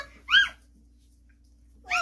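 A puppy whimpering: two short high-pitched whines, one near the start and one at the end, close and clear over a quiet low background hum.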